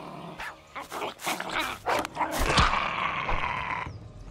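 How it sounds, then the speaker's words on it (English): A dog in the survival game Survival: Fountain of Youth barks and growls in a few rough bursts, moderately close, over a noisy background of game sound. "There's a dog."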